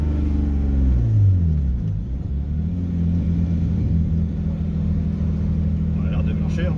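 A car engine rumbling and revving as the driver accelerates briefly in third gear, a loud close cabin drone with rising and falling pitch, people talking over it.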